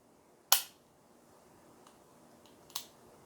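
A Colt King Cobra Target .22 revolver with a trigger fault, dry-fired slowly, gives two sharp metallic clicks about two seconds apart, the first louder, in a quiet room.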